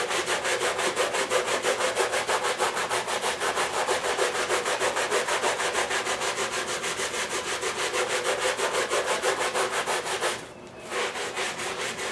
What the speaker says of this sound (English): then I'm going to go in and scrub